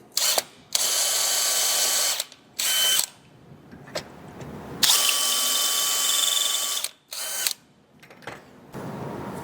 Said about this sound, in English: now that we've got our holes drilled